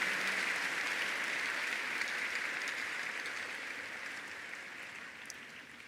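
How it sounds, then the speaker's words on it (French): A congregation applauds the Lord at a church service, a steady wash of clapping that stays even, then slowly fades. The applause is fairly distant and soft, with no voices over it. "Acclamez fort le Seigneur."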